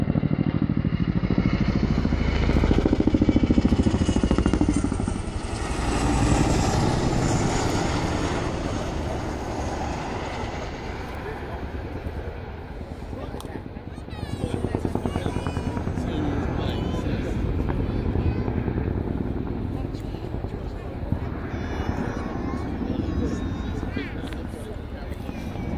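An RAF Chinook twin-rotor helicopter flies a display at the Yeovilton air day, its deep pulsing rotor thump and turbine roar swelling and fading as it passes, with a commentator talking over it throughout.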